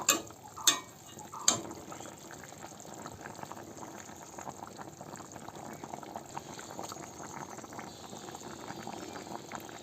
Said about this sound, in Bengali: সবজিগুলো সেদ্ধ হয়ে গেছে এবার মাছগুলো দিয়ে ফুটিয়ে নামিয়ে নেবো